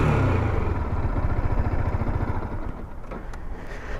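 A Yamaha MT 125 motorcycle engine revs close by, a throaty, rapidly pulsing note that holds steady and then eases down over a few seconds, with no talking.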